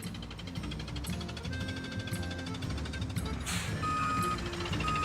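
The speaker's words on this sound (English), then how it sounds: "Caillou pretended he was driving a big water truck." A cartoon water truck's reversing alarm beeps in a steady, evenly spaced series under animated background music, with a brief hiss near the end.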